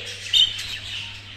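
Birds in an aviary chirp in brief high tweets, one sharper call standing out, over a steady background hum with no talking.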